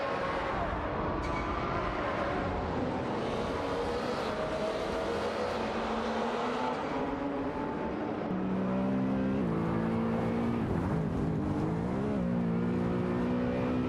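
Race cars in a video game roar continuously, with engine tones rising and falling as they accelerate and shift gears through the lap, with no pauses.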